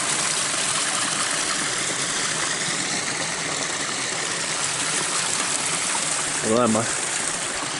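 A woodland creek flows and splits on a winter walk near a lake shore, a loud steady rushing wash with a brief spoken word near the end.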